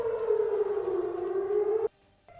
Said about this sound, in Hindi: ये जो आप सुन रहे हैं, अचानक से सायरन बजा है।